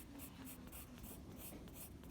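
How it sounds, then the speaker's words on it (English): Long, steady pencil strokes rasp across sketchbook paper while shading animal fur, a continuous soft scratching with regular swells as each stroke sweeps along, close and quiet with no voices. "Notice how I just keep moving my pencil with long strokes, kind of like in the direction that hair goes."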